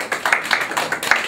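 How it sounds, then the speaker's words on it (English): A small crowd at a Christmas gathering claps in quick, distinct, irregular hand claps at close range, a brief burst with no talking. "Give him a big clap."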